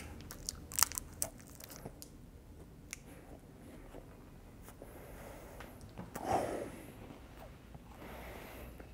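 Crunchy biting and chewing of a crisp Japanese Black Thunder chocolate bar with biscuit inside, sharp cracks early on and a louder crunch later, close up with soft background noise.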